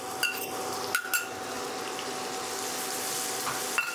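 Onion paste frying in oil makes a continuous soft sizzle, broken by a few light metallic clinks of a utensil against the pan.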